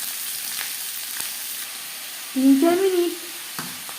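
Chopped onions fry gently in hot mustard oil for an aloo chicken curry, giving a steady soft sizzle throughout with a short stretch of talk over it midway.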